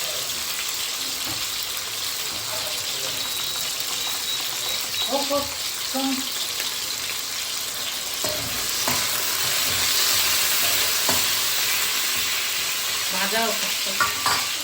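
Shol fish fries in salted oil in a pan, a steady close sizzle broken by scraping stirring strokes and occasional clinks, getting louder toward the end.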